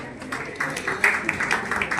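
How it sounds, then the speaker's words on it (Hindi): Applause for dignitaries at an idea summit in Lucknow, with scattered clapping swelling into a steady, moderately loud patter from a crowd that lasts the whole stretch. "जोरदार तालियां हो जाए।"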